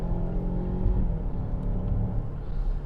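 A 2021 Mazda CX-9 Signature with all-wheel drive pulls away on a wet road, a steady low engine rumble and tyre roar heard from inside the cabin, with no voices over it.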